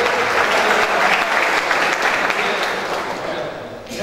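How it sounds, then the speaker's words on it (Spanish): Loud, dense applause and clapping from an audience at a youth football league awards ceremony for the under-14 runners-up, steady throughout and easing slightly toward the end. "Le damos un aplauso a los vicecampeones de la categoría"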